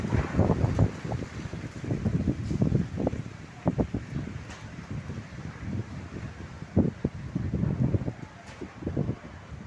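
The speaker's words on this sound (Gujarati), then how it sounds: "તમે જોઈ રહ્યા છો પવન કેવો ચાલી રહ્યો છે." Strong wind blowing through neem trees in Bharuch's Dandiya Bazaar area, coming in loud, irregular gusts with heavy low buffeting on the microphone and a faint rustle between bursts.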